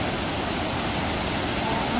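A waterfall pours into a gorge beside caves, a steady broadband roar that fills the whole clip loudly with no break.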